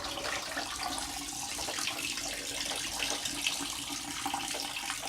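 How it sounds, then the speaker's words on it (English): Steady splashing and pouring of alum tanning solution being dumped out of a container, a continuous close hiss of running liquid with no talking. "So I need to dump this solution."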